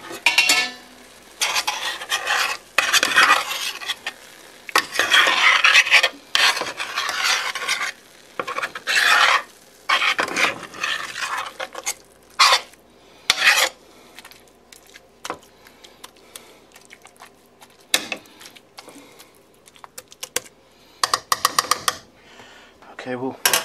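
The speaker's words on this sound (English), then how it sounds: "I'm gonna stir this up a bit." Seasoned turkey stirred in a pot with a spoon, giving repeated scraping, rasping strokes in uneven bursts separated by short pauses, close and fairly loud, with a voice heard briefly.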